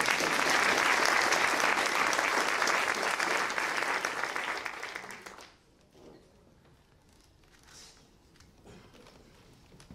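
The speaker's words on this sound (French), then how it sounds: "Donc on peut vraiment encore l'applaudir une deuxième fois." An audience applauds at a New Year wishes ceremony. The clapping is dense and loud for about five seconds, then fades quickly into a quiet room with faint movement.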